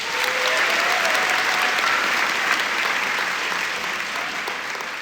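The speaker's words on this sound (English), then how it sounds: "would you please stand up and take a round of applause" Sustained applause from a large crowd at a birthday party event, a dense steady roar of clapping that fades slightly toward the end.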